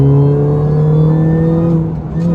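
A Mini Cooper S R53 pulls in third gear at about 3,500 RPM with a loud, close, steady engine drone that holds its pitch and rises slightly before easing off near the end.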